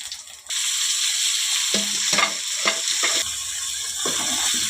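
Curry leaves crackle and sizzle as they drop into hot oil for a mutton boti curry, a steady close frying hiss with spoon scrapes and stirring clatter in the pan.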